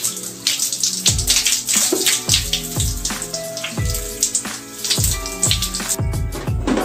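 Warm water runs steadily from a tap while hair is wetted during a hair wash, giving a continuous splashing rush with recurring louder pulses as the flow is moved over the head.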